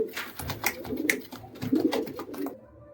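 Giribaz pigeons cooing close by, repeated throaty coos and soft wing rustles layered over each other before ending abruptly.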